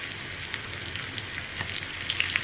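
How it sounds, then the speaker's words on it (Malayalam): Sliced onions and a sprig of curry leaves fry in hot oil for a Kerala potato pal curry, giving a steady close crackling sizzle with dense spitting pops throughout, no voices. "ഈ ഉള്ളി ഒന്ന് ബ്രൗൺ ആയി വരുന്നത് വരെ നമുക്ക് വെയിറ്റ് ചെയ്യാം."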